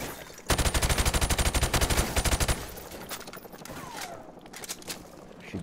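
Automatic gunfire in the Modern Warfare video game fires a loud, rapid burst for about two seconds, then falls to quieter game noise with scattered faint shots.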